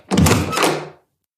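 A door opens with a single short, muffled thunk lasting under a second, then silence.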